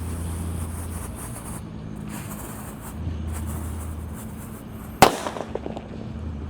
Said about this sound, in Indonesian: Selanjutnya yang kita nyalakan di sini ada Disco Happy Flower Lap Laptor.